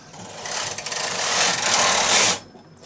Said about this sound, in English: then I'm going to knit 1 row across